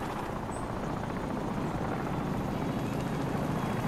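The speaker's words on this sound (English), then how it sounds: "Where did you get the chopper?" A helicopter killstreak in Modern Warfare 2 multiplayer on the Favela map sends out a steady, dense rotor roar that holds loud and unbroken throughout, with no talking over it.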